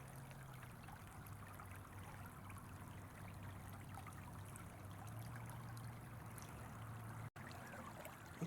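Creek water flows in a soft, continuous trickle outdoors, faint and steady throughout with a low hum beneath and no talk.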